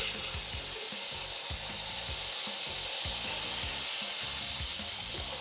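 Potatoes and onions frying over high heat in a wide pan, giving a steady, dense sizzle and crackle with no talk.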